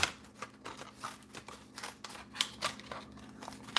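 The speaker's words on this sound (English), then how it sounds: "Try scissors this time." Quick snipping and crisp scissor cuts in short bursts, close up, with some rustling of material between cuts and no talking.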